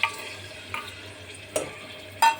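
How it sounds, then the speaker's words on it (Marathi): Cooked chickpeas tipped into a pot of Kolam rice for chole pulao, with a few soft thuds and scrapes of stirring over a low steady sizzle, close and fairly quiet. "यामध्ये आता आपण जे छोले शिजवले होते ते सुद्धा आता यामध्ये ॲड करून घेणार आहे"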